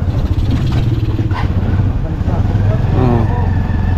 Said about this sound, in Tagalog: dinala mo na lang pala motor.